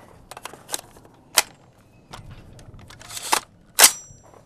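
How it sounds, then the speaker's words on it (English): Sharp metallic clicks and clacks at close range as a rifle magazine is dropped from an S&W M&P10 and rounds are loaded, a scattered series of loud snaps separated by short quiet gaps. "So I'm gonna go ahead and drop my mag here. And load up two more rounds of the ASIM."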